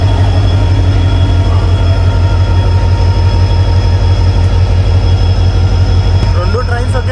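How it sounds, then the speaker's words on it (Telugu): A WDG 4D diesel locomotive hauling a goods train rumbles loudly and steadily alongside a passenger train pulling away, a heavy constant engine drone with deep low throb filling the whole stretch. "WDG 4D locomotive goods train start అయింది, మనది స్టార్ట్ అయింది."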